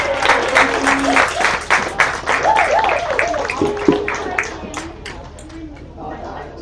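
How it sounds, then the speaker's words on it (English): A room of people claps for the panelists at an arts forum, a dense and fairly loud round of applause that tapers off, mixed with chatter and voices talking over it. "We've got another round of applause."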